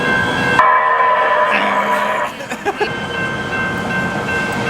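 A train passes on a city street with shops and palm trees during a US trip, giving a loud, steady rumble with tonal horn-like or siren-like lines that cut off, then a few thumps over continuing background noise.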